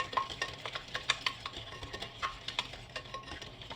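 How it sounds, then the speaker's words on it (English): A spoon or whisk works through diabetic-friendly zucchini bread batter in a bowl, giving soft, irregular scrapes and light clinks against the bowl, fairly quiet and close. "Now we're gonna mix this up."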